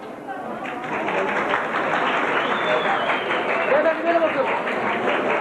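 Wedding guests give a steady round of applause at a gold-gift announcement, a dense continuous patter from a crowd with chatter and a voice over it.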